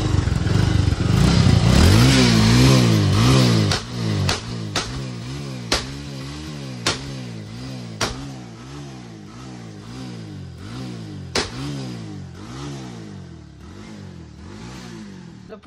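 A motorcycle engine runs close by, starting loud and rough, then settling into a steady, rhythmic throb with repeated revs that rise and fall, and a few sharp clicks and clatters along the way.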